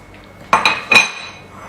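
Metal utensils clink sharply against a plate a few times as an almond orange cake is cut, three bright taps in quick succession, close and clear in a quiet kitchen.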